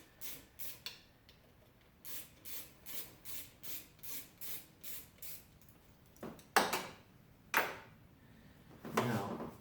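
A tiny hand wrench ratcheting on PCV parts of a Volvo engine: a steady series of short, soft rhythmic clicks close by, followed by a few louder scraping clanks near the end, with no talking.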